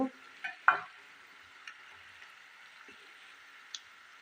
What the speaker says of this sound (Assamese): এইদৰে মিডিয়াম ফ্লেমত ৰংচঙীয়াকৈ ভাজিব লাগিব